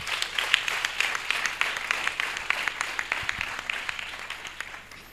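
A church congregation applauding together during a deliverance service, dense rapid clapping from many hands at steady volume that fades slightly toward the end, with faint voices underneath.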